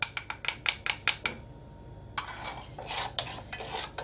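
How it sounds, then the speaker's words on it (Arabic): A spoon stirring sugar and cornstarch in a pot, a quick series of sharp scraping clinks against the metal, a brief pause, then denser rustling scrapes. "نحرك العناصر مزيان"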